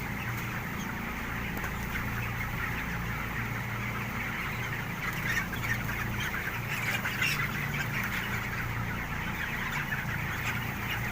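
Native free-range chickens cluck and squawk continuously at a farm, a dense overlapping chorus of close fowl calls over steady background noise.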